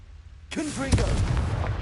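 Confringo fire blasting spell cast in the Hogwarts Legacy video game, a sudden loud burst followed by sustained crackling, booming rumble, with a shouted voice over the start.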